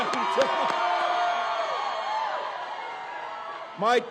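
A large rally crowd in Asheville cheers and whoops, with a sustained roar of many voices and a burst of louder yells near the end, while a voice speaks over the noise.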